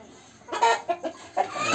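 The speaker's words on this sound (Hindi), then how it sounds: "क्रॉस मुर्गे को बंद कर रखा हूँ।" A caged cross-breed rooster clucks in short, close bursts, several quick clucks in an irregular rhythm over quiet background noise.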